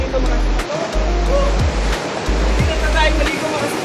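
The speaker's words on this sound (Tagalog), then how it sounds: "Ang ganda ng mga alon" Ocean waves rolling onto a beach: a steady, loud wash of surf with deep rumbling surges and hiss throughout, close by and unbroken, with no clear voices.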